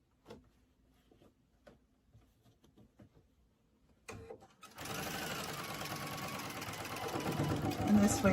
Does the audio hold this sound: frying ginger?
no